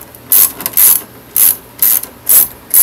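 Ratchet wrench clicking as bolts are taken off a car's parking lot housing, loud close bursts of rapid ratcheting in repeated short strokes with brief pauses between.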